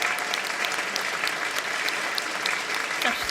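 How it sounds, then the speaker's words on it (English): Audience applause at a book launch event in the United States, a dense, even round of many hands clapping, sustained and fairly near without pause. "Let's give him one more round of applause"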